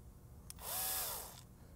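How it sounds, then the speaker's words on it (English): Power drill widening a hole in a 3D-printed blaster part, a short close whirring burst that rises and then winds down, alone with no talk. "I'm going to carefully drill this a little bit bigger."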